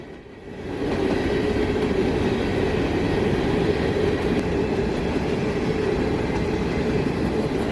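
CSX freight train X603 rolls past on the W&A line, a loud, steady rumble of wagons and wheels that swells in within the first second and holds unbroken, with no voices.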